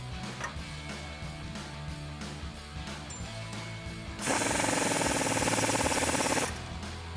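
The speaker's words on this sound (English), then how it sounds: "you can take an 18 millimeter wrench and socket, tighten down the front bolt" A wrench and socket tightening a bolt on an adjustable rear upper camber arm of a 2011-2023 Dodge Challenger, heard as a mechanical clicking followed by a louder, dense rattling burst of a few seconds, with no talking.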